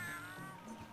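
Cats meow in the video game Monster Hunter Freedom Unite, a short, faint, tonal mew over a steady background game hum.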